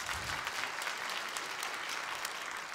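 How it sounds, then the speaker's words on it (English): Steady, dense applause from a church or Bible-study audience fills the whole stretch, even and sustained with no voices rising above it. "Yes, go ahead and applaud."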